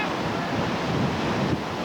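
Big waves of a whitewater river rapid crash in a steady, dense roar with a wind-like rush, loud and continuous, with no clear voices.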